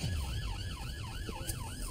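An ambulance siren wails in a steady rising and falling cycle, heard from inside the vehicle over a low road rumble, moderately quiet and with no talk.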